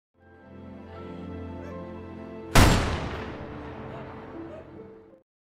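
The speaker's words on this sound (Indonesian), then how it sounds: "Lalu tak lama kemudian terdengar suara tembakan." A single sharp gunshot cracks out in a film, loud and sudden against a low, droning musical background that fades after the shot.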